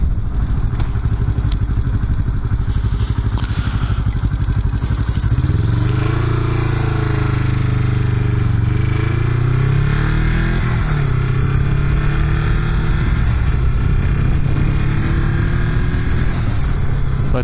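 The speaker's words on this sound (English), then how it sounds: "testing out the carb settings by letting it rip wide open throttle and stuff to read the plugs" A Honda CB350 motorcycle runs with its baffle removed, a loud, close engine drone that climbs and swoops in pitch through several throttle surges at wide open throttle, continuous and unbroken.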